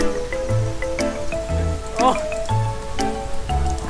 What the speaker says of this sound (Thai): เหมือนฝนตกใช่ไหม